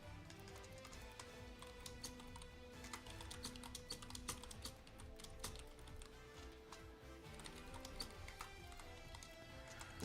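Rapid keyboard typing during a gaming championship match, a dense continuous clatter of key taps mixed over a steady background of game sound and music.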